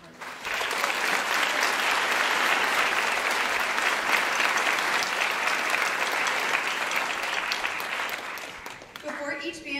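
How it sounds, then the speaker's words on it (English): Audience at a Berkeley County School District junior honor band concert applauds the band directors: dense, sustained applause filling the hall for about nine seconds, then tapering off. "Let's please take time now to give them a round of applause for all of their hard work."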